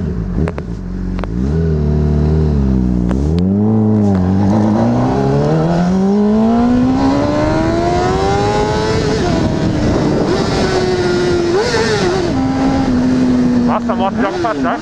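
A Honda CBR600RR sport motorcycle engine revs hard and climbs through the gears, a loud rising whine with brief drops between shifts, close by, with a rider's voice over the engine.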